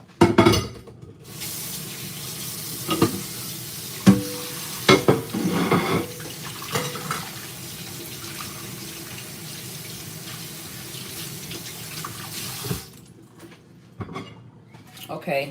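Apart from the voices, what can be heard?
rinsing potatoes with water in sink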